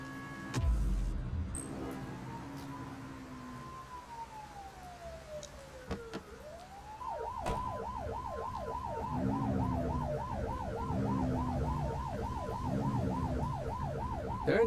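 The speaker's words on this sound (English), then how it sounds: "Turn that siren off. We don't need it on right now." Police car siren in The Precinct video game, starting as a single rising and falling wail and then switching to a fast, repeating yelp pattern that continues steadily to the end, with faint game sounds beneath.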